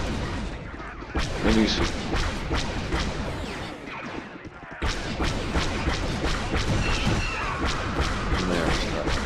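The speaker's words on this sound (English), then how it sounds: "They call it an airstrike." Airstrike explosions in the video game MoWAS2 during a battle over an imperial outpost: dense, loud booms and cracking blasts pile up continuously, with a short dip midway, and a voice speaks briefly.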